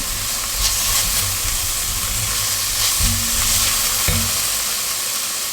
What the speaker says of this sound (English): So now we're going to add in our garlic. Give this a mix.